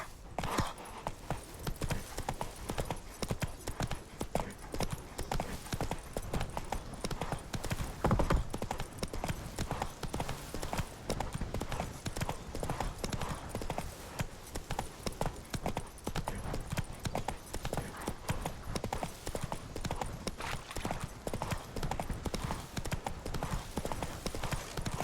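Roach the horse gallops in The Witcher 3, a fast, unbroken drumming of hoofbeats that continues loudly for the whole stretch, with game sounds and a faint voice underneath.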